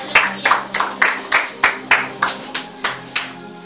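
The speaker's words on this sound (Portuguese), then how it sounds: "Senta aplaudindo o Senhor Jesus." Rhythmic clapping from a church congregation, about three claps per second, loud and even, with a low musical drone underneath.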